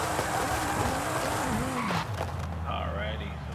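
A Dodge Viper in Forza Horizon 5 squeals its tires while heating them before a drag run, a loud wavering screech over a revving engine that gives way to a low idle rumble, with someone talking over it.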